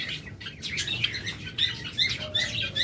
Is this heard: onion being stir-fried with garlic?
no